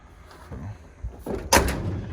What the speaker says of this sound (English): Door shut nice.